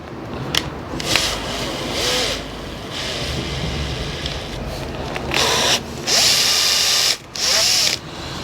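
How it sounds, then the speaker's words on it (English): A power drill chews through old rivets on a compost spreader in several bursts of grinding, rasping whine, pausing briefly between pushes, close and loud with no talking. "So basically we're just going to drill through the rivets nice and steady."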